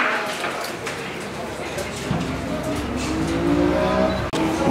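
A McLaren P1 supercar at a car meet revs loud and close, its engine note rising steadily under continuous crowd noise and talk.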